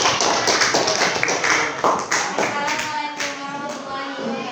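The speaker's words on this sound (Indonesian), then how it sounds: "Kita beri aplaus buat Sisil." A classroom audience claps for a student after her presentation on the history of Islamic political movements, a steady burst of many hands that gradually thins and fades.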